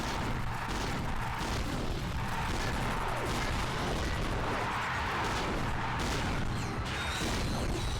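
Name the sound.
blitz cannon and HK-22 gun firing in Ratchet and Clank: Going Commando video game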